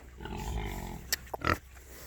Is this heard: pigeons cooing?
no